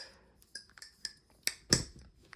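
A Thomas balisong butterfly knife, lightly lubed, flips with a series of sharp, glassy metallic clicks and rattles. The clicks are close and quiet, with the loudest at the end.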